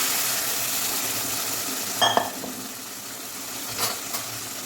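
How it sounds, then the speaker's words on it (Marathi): Minced mutton in a pan with hot water poured in gives a steady low sizzle and bubbling, broken by a couple of brief scraping stirs. "त्याच कढईत मी गरम पाणी ओतून घेतलं आहे"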